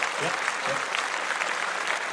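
Applause from a podcast audience or hosts, a steady dense patter of clapping filling the clip at moderate loudness, with faint voices briefly audible underneath.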